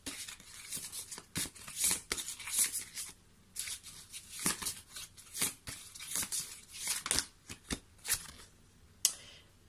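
Tarot-style cards shuffled for a card reading, soft irregular riffling and flicking bursts repeating close by and fairly quietly over several seconds.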